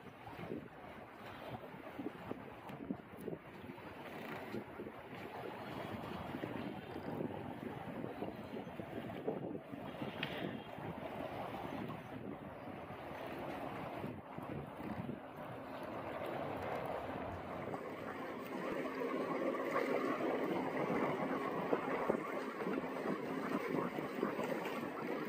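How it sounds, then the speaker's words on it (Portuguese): Strong wind blows across an open park by a lagoon, a broad steady roar that swells louder toward the end, with no talking. "que vento é esse?"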